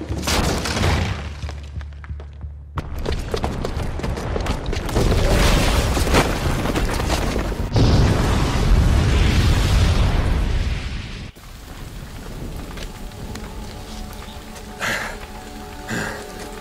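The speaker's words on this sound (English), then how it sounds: "the booby trap on the bomb downstairs is gonna get set off" A booby-trapped bomb detonates in a video game, a loud sustained blast with rumbling debris and roaring rubble that rolls on for several seconds, then settles into quieter crackling aftermath and scattered falling fragments.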